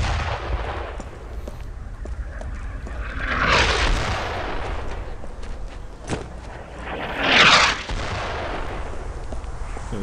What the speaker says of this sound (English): Hopefully they don't get killed by those fucking mortars